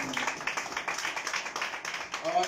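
A church congregation claps and cheers in praise during a morning prayer service, a rapid run of hand claps with voices mixed in and a tonal voice rising at the end.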